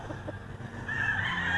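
A rooster, one of a breeder's prized gamefowl, gives short clucks and a brief throaty call, close by and moderately loud over a quiet outdoor background.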